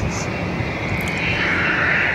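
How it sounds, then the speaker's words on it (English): A Cessna Citation XLS business jet, 18 years old, heard at an airport as a loud, steady engine roar and whine that swells slightly, with no talk. "Cessna Citation XLS, that's what it is"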